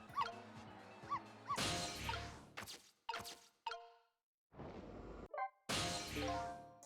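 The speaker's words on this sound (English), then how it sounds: "can't you bark any louder than that?" A small dog in the Ghost Trick video game barks in short, sharp bursts, several yips separated by brief silences, clear and close with game sound effects between.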